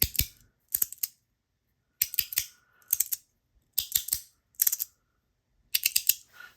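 A magnetic fidget toy snaps and clicks in short bursts of sharp, close-up pops separated by silent gaps, each burst made of two or three quick clacks.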